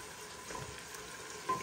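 Food roasts in a small amount of oil in a pan, a faint steady sizzle and crackle at low volume with a small clink near the end and no speech.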